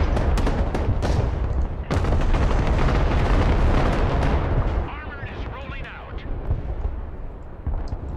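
Tank cannon fire in the video game Broken Arrow, heavy booming shots repeating over a dense roar of battle, with a big blast near the two-second mark, while someone talks throughout.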